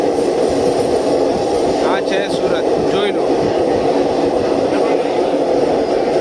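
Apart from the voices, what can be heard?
Tirupati Express train at Surat station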